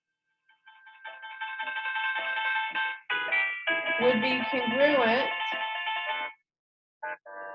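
A phone ringtone plays a steady, sustained electronic melody for several seconds, loud and continuous, while a teacher keeps talking over it during a geometry lesson on quadrilaterals; it cuts off, then briefly sounds again.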